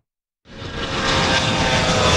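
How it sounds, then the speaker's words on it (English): A fixed-wing airplane flies overhead in Maine, its engine roar rising suddenly out of silence and holding as a loud, steady broadband drone that keeps building as it passes close by. "Planes flying in and out of Maine bring evacuees from states like North Carolina"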